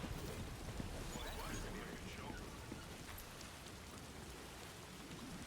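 Timefall rain in the video game Death Stranding 2 falls as a steady, dense hiss of rain with soft patter, moderately quiet and continuous throughout.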